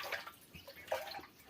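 Water is scooped from a drum outdoors, making a few faint, scattered splashes and trickles, quiet and close, with no voices.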